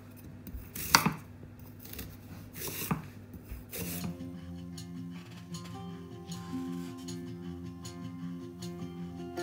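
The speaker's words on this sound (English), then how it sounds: "I'm just going to slice them into slices about 5 to 8 millimeters thick." A knife cuts through peeled sweet potatoes on a board with a few crisp, distinct chops at the start, followed by quieter clatter and background hum.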